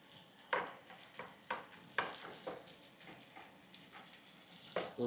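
Broccoli cooking in a pan with a soft sizzle, punctuated by several sharp scrapes and stirring knocks spaced irregularly, fairly quiet and close.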